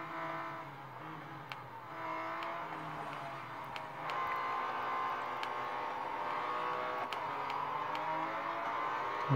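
Car racing game played on a Samsung Galaxy S9+ with an Xbox Elite controller, with a continuous droning engine note that rises and shifts pitch as the car accelerates, plus faint ticks, and no talking.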